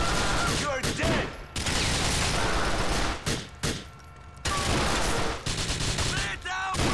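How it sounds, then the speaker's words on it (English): Heavy gunfire in the GTA IV: The Lost and Damned video game, dense bursts of automatic fire with sharp shots and brief lulls, loud and close, with shouted voices mixed in. "We're under fire!"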